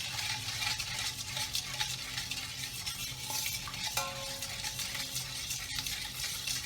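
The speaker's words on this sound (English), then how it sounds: "all we need to do is just give that a quick stir" Sugar and about a sachet of yeast are stirred briskly into water in a bowl for Armenian choreg bread, giving a steady scraping and swirling that runs continuously, close and moderately quiet, with no talking.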